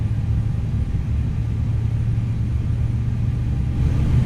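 A ToLiss Airbus A321 CEO engine spooling up in the X-Plane flight simulator, heard as a steady low rumble that holds even and continuous, with a faint rise in hiss near the end and no voices.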